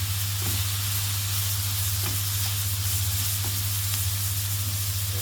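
Okra curry is stirred in a hot pan, giving a constant close sizzle over a low steady hum. A few soft spoon scrapes come through at intervals.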